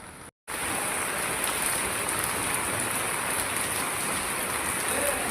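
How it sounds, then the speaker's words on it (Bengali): Steady, heavy rain pours down at a construction site in Singapore, a dense, continuous hiss that stays loud and even throughout, broken only by a split-second dropout near the start. "এইটা দেখেন, বৃষ্টি শুরু হয়ে গেছে অলরেডি।"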